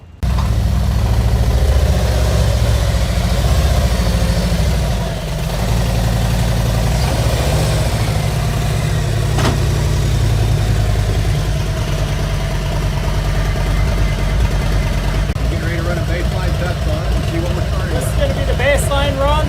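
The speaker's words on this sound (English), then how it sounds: "We're gonna start running that dyno and see what happens." Motorcycle with a stage 1 jet kit and decatted header idling on a dyno, a loud steady low engine rumble that shifts slightly partway through, with some voices over it.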